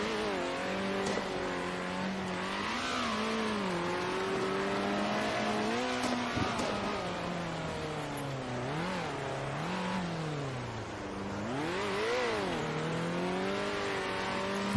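Rally car in the Circuit Superstars racing game, engine revving steadily through gear changes with rising and falling pitch sweeps while driving on dirt sections, loud and continuous throughout.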